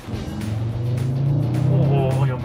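An Audi RS3's inline five-cylinder engine hums and builds in a rising, close tone for a few seconds. Someone talks over it.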